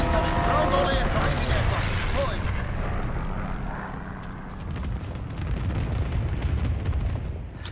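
Heavy bombardment in a World War II shooter match, dense rumbling explosions and crackling debris rolling continuously over eight seconds, with a voice speaking over the din at the start.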